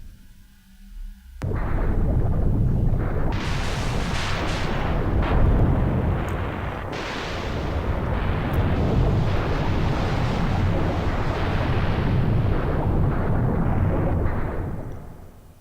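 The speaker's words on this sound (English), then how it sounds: "that seemed quite a powerful explosion" An explosion in the Final Fantasy video game blasts open a canal. After a quiet second comes a sharp burst, followed by a long, loud, rumbling roar that lasts more than ten seconds before tapering off.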